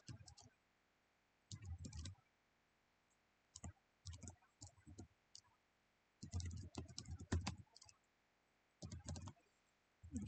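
Fingers type on a computer keyboard in scattered bursts of quick clicks and key taps, separated by short quiet gaps. The typing is close but soft.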